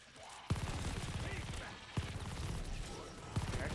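Gunfire in Call of Duty Vanguard Zombies sounds as three sharp shots spaced roughly a second and a half apart, with someone talking continuously over and between them.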